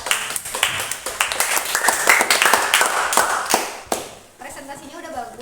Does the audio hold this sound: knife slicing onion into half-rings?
no